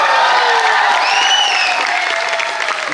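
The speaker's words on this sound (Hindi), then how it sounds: "ऐसी तालियां बजाना जो इस्लामाबाद तक सुनाई पड़ जाए" Applause from an audience at a comic poetry gathering during a festival in Pune, a steady dense wash of clapping with crowd noise, loud and close, with faint whistles or tonal cries rising over it.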